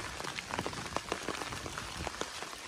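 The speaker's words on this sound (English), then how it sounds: "I haven't walked in the rain in so long that I forgot how nice the umbrella is." Steady rain patters on an umbrella overhead during a walk, a dense, close wash of drops with brief louder taps scattered throughout and no talking.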